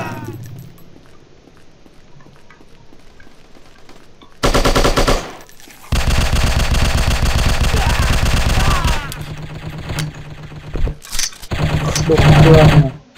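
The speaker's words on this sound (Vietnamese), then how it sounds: "Tôi đang bắn" Bursts of automatic gunfire from the Striker shooting video game, loud rapid fire in long blocks separated by short pauses, with scattered single shots toward the end.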